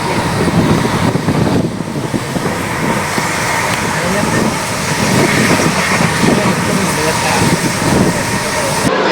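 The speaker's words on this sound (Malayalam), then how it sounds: "നമ്മൾ തലശ്ശേരി റെയിൽവേ സ്റ്റേഷനിൽ എത്തിയിട്ടുണ്ട്. ട്രെയിനിന് വേണ്ടിയിട്ട് വെയിറ്റിംഗ് ആണ്" Rumbling rail noise fills Thalassery railway station, steady and fairly loud, with low clatter and station bustle throughout while people wait for a train.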